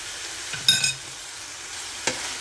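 Seasoned ground pork sisig with black pepper and garlic powder sizzles softly in a pan while a spatula stirs it, giving a few light scrapes over a low, even frying hiss.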